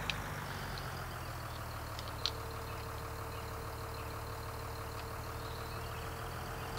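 An Ursus tractor's engine in Farming Simulator 2013 hums as a steady, even, low drone with no change in pace, broken by a couple of faint clicks.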